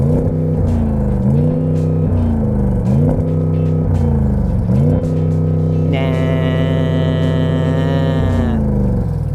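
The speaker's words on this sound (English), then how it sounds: "For instance, rev up the engine, go on." Audi S8 V8 engine revved while stationary: a loud, deep throbbing idle rising and falling through several blips, then a sustained higher hold against a soft rev limiter near the end, close and with no speech.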